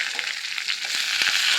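Mustard seeds, chana dal and green chillies sizzle in hot oil, a short, bright, continuous crackle with a few soft pops, heard close and alone.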